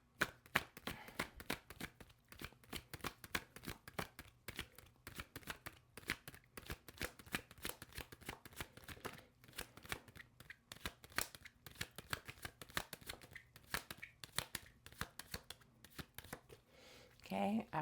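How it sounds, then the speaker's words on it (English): Close, quiet shuffling of a deck of tarot cards, with rapid irregular riffles and slaps of card stock repeating throughout. "after that type of shuffle, if nothing comes up, we cut the deck"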